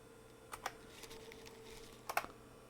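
Keys on an IBM PS/2 Model 85 keyboard are pressed in two quick pairs of close, crisp clicks, separated by a pause, over a faint steady computer hum.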